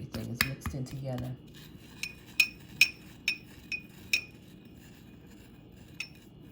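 A spoon clinks and scrapes against a bowl while a face mask mixture is stirred, with a few rapid taps at first and then evenly spaced metallic chinks, close and fairly quiet.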